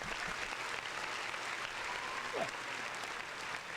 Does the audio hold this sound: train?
no